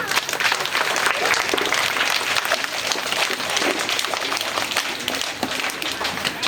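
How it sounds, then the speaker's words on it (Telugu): Audience at a play school graduation and annual day in Secunderabad clapping to welcome Father Bala, a dense sustained round of applause from a crowd that fades slightly toward the end. "So hearty welcome father Bala. So clap."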